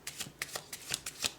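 A deck of tarot cards is riffled and shuffled close by, a quick run of about a dozen soft, crisp flicks in rapid rhythm, quiet and alone.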